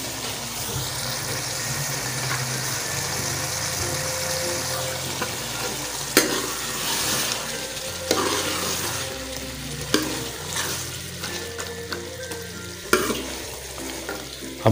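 Boneless chicken and green beans frying in a pan and being stirred, a continuous close sizzle broken by periodic spoon scrapes and clanks, without any talking.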